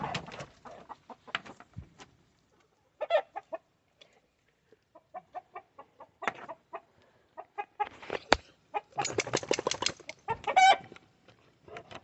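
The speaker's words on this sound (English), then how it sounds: "Rooster's getting upset." Backyard chickens, including a Buff Orpington, and an agitated rooster cluck in scattered bursts near the microphone, building to a dense flurry of squawks toward the end with no talking.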